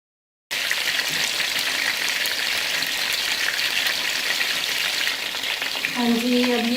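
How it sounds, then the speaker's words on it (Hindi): Chicken for Lahori chargha fries in hot oil over medium flame, a loud continuous bright sizzle starting abruptly after a brief silence and holding steady, with faint tonal beeps near the end. "अब हम चिकन को इसके अंदर डाल देते हैं। अब हम मीडियम आंच पे इसको फ्राई करेंगे।"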